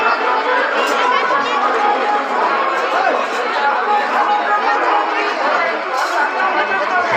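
Dense crowd at a Hori fair in Odisha, a continuous loud roar of many overlapping voices and chatter with no pauses, close and enveloping throughout.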